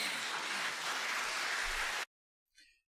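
Broadband applause from a studio audience at a televised seven-party UK general election debate fills two seconds at moderate level, then cuts off abruptly into silence.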